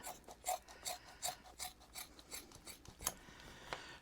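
A knife cuts a strip from thick cowhide leather with a series of quiet, rhythmic rasping strokes at close range, roughly a few per second, ending in a sharper snap.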